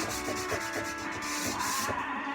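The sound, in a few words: sanding wood with 120-grit sandpaper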